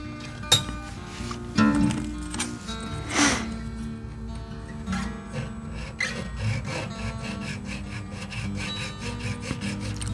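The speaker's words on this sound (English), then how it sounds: "See, as I'm filing right now," A Japanese UO-CHIKYU nut file rasps through a nut slot in repeated close, scratchy back-and-forth strokes, with small metallic clinks between passes.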